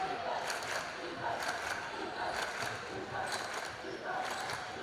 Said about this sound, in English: You can hear the crowd trying to spur on another defensive stop for Ayersville.